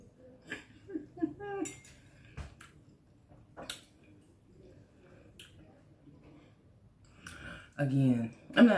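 A fork cutting through tender cooked chuck roast on a plate, giving a few light metallic clinks and scrapes, with a person talking between them in a quiet kitchen.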